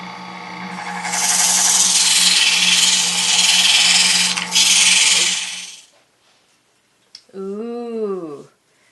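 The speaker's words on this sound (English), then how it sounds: "let's do a little bit of sanding" Steady broadband rasping of sandpaper rubbed by hand over a wooden mortar and pestle for several seconds, close and continuous, then it stops and a brief voice follows.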